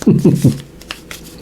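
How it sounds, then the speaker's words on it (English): Tarot cards being shuffled by hand in three quick riffling bursts up close, followed by a few faint rustles. "Just going to shuffle these up a little more"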